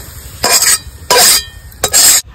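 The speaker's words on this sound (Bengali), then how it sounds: "আমি শিলের পরে ঢেলে নিচ্ছি।" Fried pangas fish pieces are tipped from a pan onto a flat stone grinding slab, making three loud, rough scraping and sliding bursts with short pauses between them.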